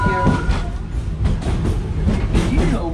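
Wildlife Express Train at Disney running on rails: a steady rumbling ride with rhythmic clickety-clack of wheels over track joints, loud and close throughout with no talk.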